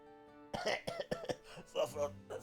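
A Final Fantasy XIV character coughs and clears their throat in a run of about six rough bursts, close and fairly quiet, after a moment of near silence.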